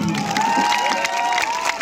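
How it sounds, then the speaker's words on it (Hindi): A dense burst of crowd applause mixed with cheering voices at a Bhojpuri stage show, loud and continuous for a couple of seconds. "इसके लिए ताली बजनी जरूरी चाहिए"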